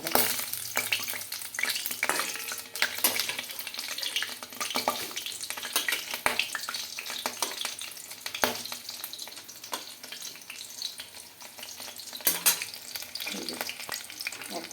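Fish roe fritters fry in hot oil in a wok, a dense continuous sizzle with scattered pops and stirring scrapes, close and steady throughout, with no voices.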